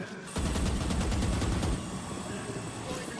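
Gunfire from a Valorant pro match on the Bind map: a rapid burst of automatic shots lasting over a second, then a fading tail of game noise.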